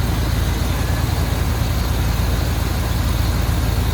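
Steady, smooth idle of a 1962 Chevrolet Impala SS two-door hardtop sport coupe with dual exhaust, a constant low rumble held close and unbroken throughout, with no talking.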